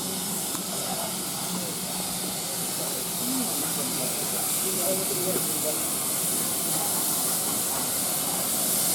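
GWR No 1501 steam locomotive at Barrow Hill Roundhouse gives off a loud, steady, unbroken hiss of steam, with faint voices and station clatter beneath it.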